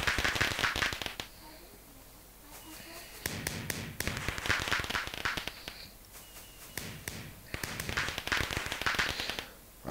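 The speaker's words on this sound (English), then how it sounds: "15 fireworks. Which ones are these? Rainbow bombs." Rainbow bomb fireworks go off in Minecraft, with several bursts of sharp crackling pops arriving in clusters through the stretch, with a voice present alongside them.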